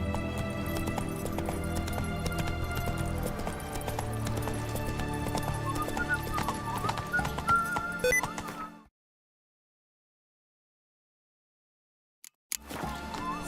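A horse gallops in The Witcher 3 video game, rapid rhythmic hoofbeats with clip-clop clatter for about eight seconds, then silence before the hoofbeats return briefly at the end.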